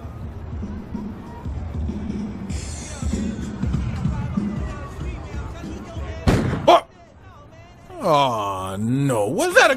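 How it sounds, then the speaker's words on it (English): A loud gunshot cracks out in an animated TV comedy scene, a sharp burst standing out amid busy crowd noise and talking, followed by a brief silence and then excited voices. "was that a gunshot?"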